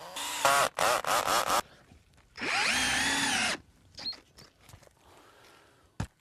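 A power drill bores through roof shingles and flashing into the decking, with several short close whirring bursts followed by one longer steady run that winds down, then quiet handling clicks.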